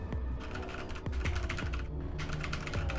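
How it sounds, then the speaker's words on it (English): Rapid keyboard typing in the video game Virtue's Last Reward: steady, dense clacking of keys, loud and close, running continuously over a low droning background with no talking. "Let me touch some keys on this keyboard."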